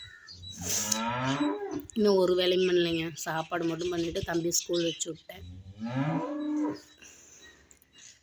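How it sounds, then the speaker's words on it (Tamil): A cow moos several times in long, drawn-out calls that rise and fall, close by, while someone talks over and between the calls. "அதான் மாடு கத்திட்டு இருக்குது, ஆட்டை பிடிச்சிட்டு போயிட்டாங்கன்ட்டு."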